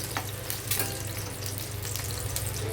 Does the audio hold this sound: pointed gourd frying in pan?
yes